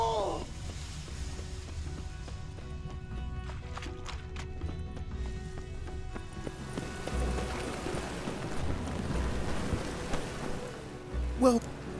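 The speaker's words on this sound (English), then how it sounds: "Rain again. Damn mages." Rain patters steadily in The Witcher 3 game world, a soft hissing wash with low rumbling beneath, faint hoofbeat-like clicks in the middle and a louder swell of noise toward the end.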